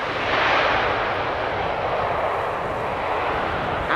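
An airliner lands at Amsterdam Schiphol Airport with its nose raised for aerodynamic braking, a loud, steady jet engine roar and rushing air held for several seconds with no talk.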